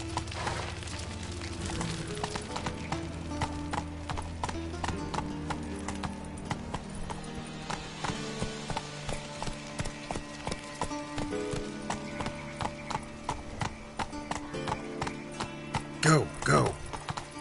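Geralt's horse Roach gallops in The Witcher 3: Wild Hunt, giving rapid, rhythmic hoofbeats under continuous game music, growing louder and more distinct toward the end.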